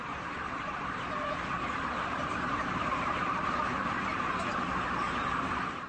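Chickens crowded inside an intensive poultry production unit, a steady dense wash of clucking and murmuring from many birds at once, continuous and fairly loud throughout with no talk.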